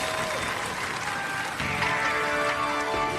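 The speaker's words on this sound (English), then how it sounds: "Give them a round of applause, ladies and gentlemen." A studio audience at a robot combat show applauds in a sustained, even burst of clapping, with a brief dip midway before it swells again, while faint tonal hum sits underneath.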